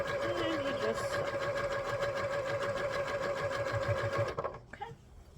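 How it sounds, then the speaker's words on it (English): A sewing machine runs steadily, stitching fabric pieces for a Bargello quilt block, its close, even motor whir holding for about four seconds before stopping abruptly. "And you just sew."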